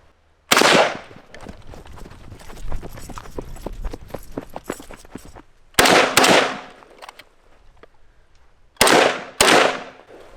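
An SKS semi-automatic rifle fired outdoors: a sharp opening shot, a rapid string of cracking rounds, then two more close pairs of loud reports with echoing tails between quiet gaps.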